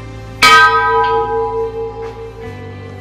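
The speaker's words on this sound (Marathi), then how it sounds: "अरे घंटा बघ किती मोठी आहे." A large bell at Vetoba temple rings once with a loud, sharp strike, then hums on in a long, slowly fading resonance that shimmers with overtones, alone and close.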